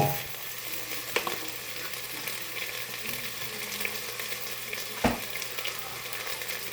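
Red onions fry in a pan for spicy sausage rice with a continuous close sizzle, broken by a few soft scrapes and one sharper clack of a utensil.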